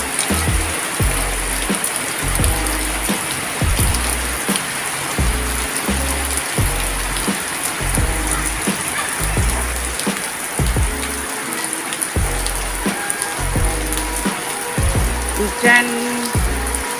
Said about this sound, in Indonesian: Ini hujannya bunda-bunda,